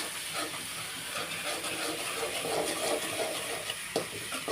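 Onions and turmeric-washed chicken sauté in a hot pan, giving a steady, close, even sizzling hiss throughout with no talking.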